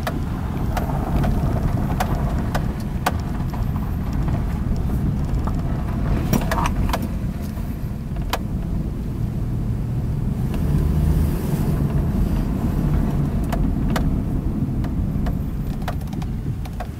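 A 2003 Subaru Outback with all-wheel drive cruises with a steady, loud rumble of engine and road noise from inside the cabin, joined by occasional faint rattles and brief clicks.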